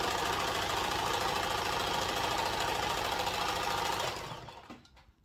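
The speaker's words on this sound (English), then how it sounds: "we are sewing this one now" A sewing machine stitches fabric with a steady, fast mechanical whir and rattle that runs loud and unbroken for about four seconds, then slows and fades to a stop.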